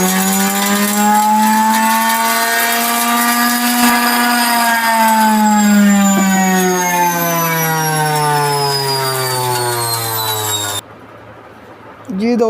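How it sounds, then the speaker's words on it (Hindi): Electric grinder whirring as it grinds shawarma spice powder ingredients, a loud, steady motor whine whose pitch slowly dips as it runs, then stops abruptly and leaves a brief quiet. "इन्हें हम कर लेते हैं ग्राइंड"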